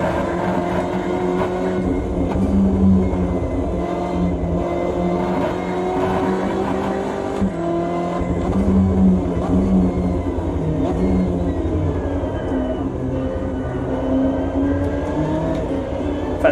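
A BMW M8 GTE race car runs at full throttle on the Nordschleife, its engine a loud, continuous onboard roar with steady harmonic drone and slight pitch shifts throughout.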